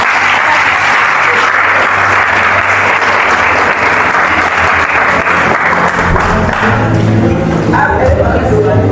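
A church congregation claps and cheers loudly and continuously, a dense wash of applause with shouting voices mixed in that fades somewhat toward the end.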